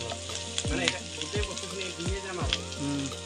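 Onion, ginger and green chilies frying in smoking-hot oil: a steady close sizzle, broken by several stirring scrapes and soft knocks at regular intervals.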